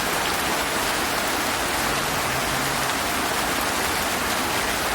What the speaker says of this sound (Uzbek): Mana sizlarga yomg'ir.